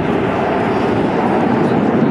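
An F/A-18 fighter jet flies the landing circuit at the RAAF Amberley airshow 2004, its engine a steady, loud broadband roar throughout.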